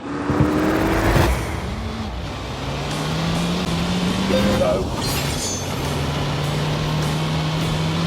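A Citroën car from The Grand Tour video game drives with a steady engine drone, its pitch rising gradually through a gear before holding at a sustained hum.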